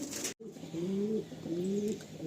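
Andhra pigeons in a loft give low, rolling coos, several drawn-out calls in steady succession, near and clear.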